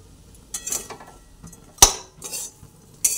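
Chopped chili and salt are stirred in a pan with a metal utensil, giving a few sharp scrapes and clinks against the pan, close and distinct in a quiet kitchen.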